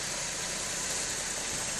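The engine of a 1974 Rolls-Royce Silver Shadow LWB sedan idles as a steady, even hum with a broad hiss on top, close and uniform, with no voices.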